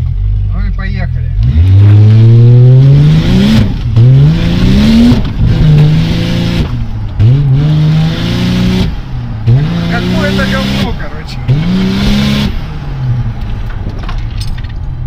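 A Toyota Chaser with a 1JZ-GTE twin-turbo engine pulls away and revs hard and close, climbing through the gears in a repeating pattern of rising engine pitch over about fifteen loud seconds.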